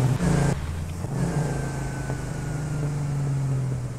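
A vehicle in the video game Satisfactory drives along with a steady engine drone that briefly rises in pitch early on, then holds a constant hum alone to the end.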